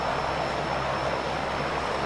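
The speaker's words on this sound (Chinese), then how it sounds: "机长，飞机检查完毕，可以起飞，请指示。" An airplane engine at takeoff gives a constant, loud, close droning roar throughout with no talk.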